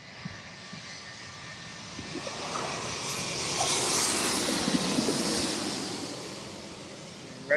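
An arriving airliner, watched by plane spotters near an airport, roars as a broad jet rumble that slowly swells and then fades, with faint scattered sounds from the spotting area underneath.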